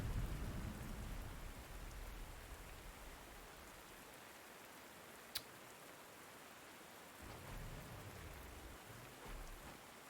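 Steady rain and rumbling thunder from a storm in the Panzer Corps 2 war strategy game, a continuous broadband downpour with low rolls of thunder at the start and near the end and one sharp crack midway.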